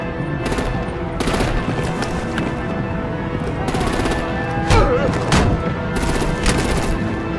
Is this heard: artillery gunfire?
yes